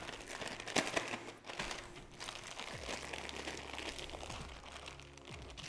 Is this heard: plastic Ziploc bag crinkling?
yes